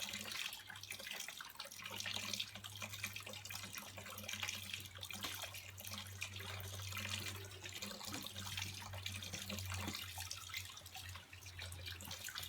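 Tap water runs steadily into a sink while beer is being brewed, a continuous even splashing rush with a low hum underneath and no talk.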